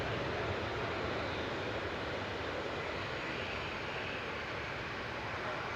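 A Boeing 757 at Manchester Airport gives a loud, steady broadband engine roar that holds at constant strength throughout.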